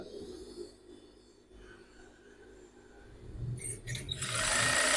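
An industrial bartack sewing machine with its feed teeth set too high, so the fabric stays in place instead of feeding: a faint mechanical hum builds into a loud, harsh running whir in the final second.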